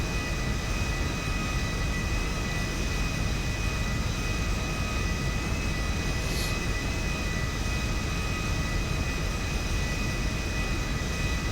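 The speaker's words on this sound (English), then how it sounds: "This is like the worst turning plane." An airplane engine in a GTA-based LSPDFR flight sim drones in a constant, dense, steady roar throughout, loud and unbroken with no talking.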